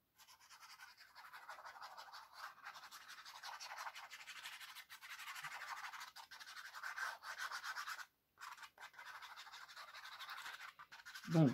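A hand presses and rubs a freshly glued paper page flat in a handmade craft album, giving a steady, close dry rubbing and brushing that runs almost continuously, with a brief pause near the end.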